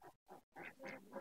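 Ducks being released one by one into a shed give a quick run of nasal quacks, several short calls close by with brief pauses between the first few.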